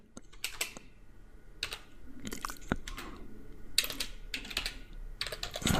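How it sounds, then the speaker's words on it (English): Keystrokes on a computer keyboard entering an Oracle database admin account name, clustered taps in quick irregular bursts, close and fairly quiet with no talking. "So I'm just going to type in sys admin."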